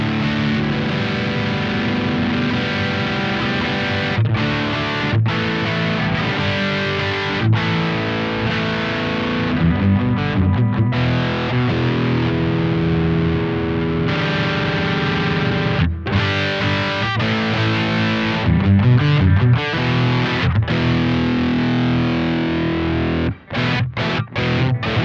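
An electric guitar runs through a Wampler Pinnacle distortion pedal in vintage mode with the gain lowered, giving a continuous saturated overdriven tone of sustained chords and riffs with brief gaps.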